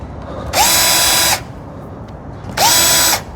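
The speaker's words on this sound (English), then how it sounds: "I use my M18 for most of the drilling through fiberglass." A Milwaukee M18 cordless drill bores through boat fiberglass in two loud, close bursts of high whine, each lasting under a second, with a quiet pause between them.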